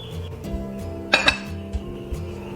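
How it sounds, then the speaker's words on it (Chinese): A plate set over a steamer holding purple sweet potato mooncake dough, giving a sharp ceramic clink followed by a couple of lighter taps against a steady low background. "放入蒸笼里面蒸熟，可以扣一个盘子，防止水蒸气滴落"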